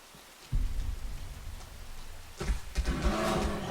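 Rain falls in the video game Rain, a steady hiss of downpour that swells in patches with soft splashy textures, continuous and fairly loud with no voice over it.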